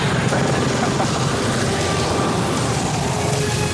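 An attack helicopter in an action film scene makes a loud, continuous rotor and engine roar that fills the whole stretch without pause.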